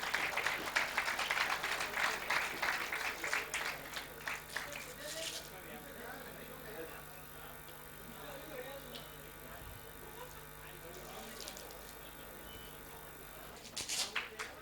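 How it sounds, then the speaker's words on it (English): Applause from an audience at a business conclave award ceremony, with steady dense clapping for about five seconds that then fades, followed by a quieter stretch and a brief burst of clapping at the end. "Can we have a big round of applause?"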